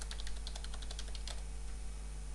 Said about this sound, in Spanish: Hago un clic acá en contraseña y escribo mi contraseña.